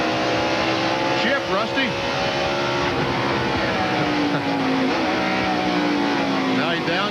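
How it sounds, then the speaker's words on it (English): Race cars at Watkins Glen in 1996 roar down the front stretch, engines loud and continuous with rising pitch sweeps as they accelerate and shift gears, while a commentator talks over the steady engine noise. "Nail the accelerator as they go down the front stretch."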